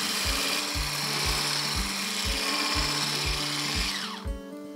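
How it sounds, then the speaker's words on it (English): An outboard-motor-style power whisk beats pumpkin pie filling made from real sweet pumpkins in a bowl, a close mechanical whir with a rhythmic pulsing thump repeating about twice a second, fading toward the end. "We're going to whisk it up."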